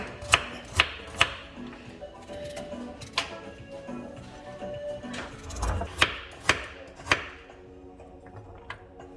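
Irregular knife chops knock on a cutting board as vegetables are diced, a few quick strikes then scattered softer ones, close by in a quiet room.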